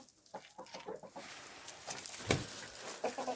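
A rooster clucks and calls close by in a yard, a few short throaty sounds among faint outdoor noise.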